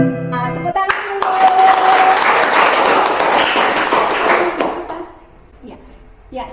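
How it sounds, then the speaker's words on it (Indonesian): Students in an Indonesian language class clap together, a loud, dense burst of applause that swells and holds for several seconds before thinning out, with a few voices mixed in and scattered claps at the end. "tepuk tangan dulu"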